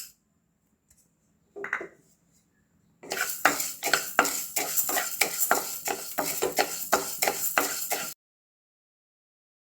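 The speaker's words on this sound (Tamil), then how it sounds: "இதுதான் கொள்ளு வறுத்துக்கிறோம்." Horse gram dry-roasting in a pan, heard as a brief scrape and then a burst of rapid rhythmic rattling and scraping as the seeds are stirred, stopping abruptly into silence.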